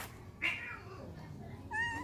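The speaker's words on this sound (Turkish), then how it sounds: "Bunlar da yamyam kediler." A cat meows on a neighbourhood street at night, giving one clear meow near the middle and a second, more drawn-out meow near the end over quiet outdoor background.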